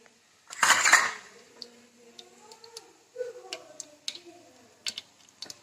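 Mustard seeds and urad dal crackling in hot oil for a tempering for idli: a loud sputtering burst at the start, then scattered sharp pops and clicks that thin out as it settles.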